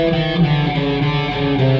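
Fast alternate-picked electric guitar playing pattern two of the Flight of the Bumblebee riff, a rapid continuous stream of notes for about two seconds, loud and close, with no talking.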